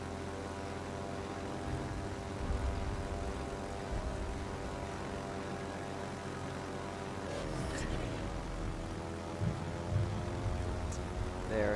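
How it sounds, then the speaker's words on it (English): Fast torpedo bomber aircraft in a World of Warships naval battle, a steady droning propeller-engine roar held at even loudness throughout, with faint battle noises layered underneath. "That's some hella fast aircraft."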